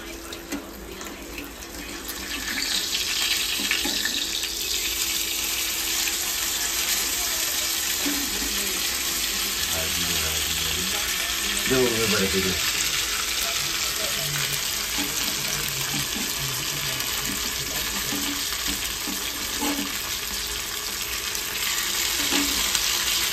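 Surmai fish fries in a pan with a loud, continuous broad sizzle and hiss, close up, with some scraping and clatter as the pieces are turned midway.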